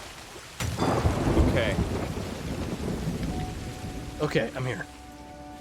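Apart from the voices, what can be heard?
rain and thunder, from video game Sea of Thieves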